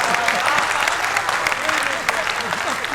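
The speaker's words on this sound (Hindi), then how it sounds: "एक बार जोरदार ताली बजा दो इनके सम्मान में इनके भंडारे में।" Clapping from the audience at a Hindi comic poetry gathering (kavi sammelan) mixes with voices and cheering, loud and close, with scattered sharp claps and talk running under the applause.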